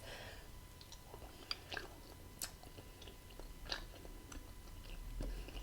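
Chewy food being chewed close to the microphone during a mukbang, with soft, sporadic wet bites and mouth sounds over a quiet background hiss.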